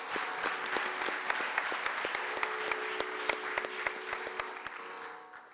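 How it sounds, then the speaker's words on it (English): Audience applause following a classical Indian dance Arangetram stage performance, a steady dense wash of many hands clapping throughout with a few sharper individual claps standing out, fading slightly at the end. "Let's give them another round of applause."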